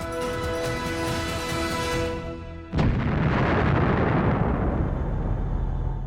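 A Proton rocket at the Baikonur Cosmodrome carrying a Lunokhod lunar rover: a steady tonal hum cuts off into a sudden loud blast, followed by a sustained heavy roaring rumble.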